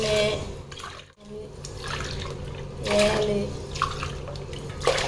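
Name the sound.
water being poured into a pot for biryani rice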